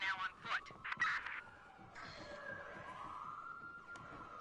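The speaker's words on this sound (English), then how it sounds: "I just hear all the sirens." Sirens wail faintly in the distance, rising and falling, after a few brief louder noises at the start.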